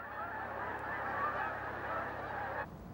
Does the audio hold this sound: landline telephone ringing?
no